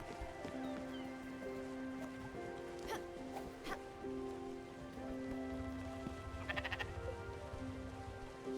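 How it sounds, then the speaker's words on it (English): Sheep bleat in the video game Spiritfarer, soft repeated calls set within a busy ambient game soundscape with tonal music, light patter and scattered clicks, all at moderate to low level. "Sheep can't be sheared."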